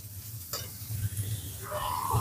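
Chopped tomato and green chili sizzle in a hot pan while a spoon stirs them, with a scrape partway through and a steady frying hiss rising toward the end.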